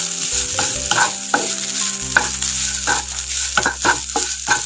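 Raw jackfruit with grated coconut sautés in a pan for Palakkad-style chakka podithooval, giving a close hissing sizzle broken by frequent spatula scrapes and stirring knocks, alongside a low steady hum.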